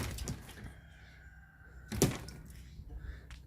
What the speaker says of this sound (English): we're going to go ahead and just move the string and open the door here.